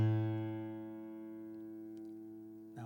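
A single plucked A (fifth) string on an acoustic guitar rings out clearly and fades gradually over a few seconds, close and alone, with a faint touch of the string near the end.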